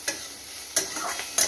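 Pointed gourd frying in mustard oil in a pan, a steady soft sizzle broken by two or three sharp scraping stirs of a spatula, close and clear with no talking.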